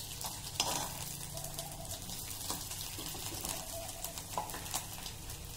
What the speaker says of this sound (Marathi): दोन्ही साइडला छान करूया फ्राय।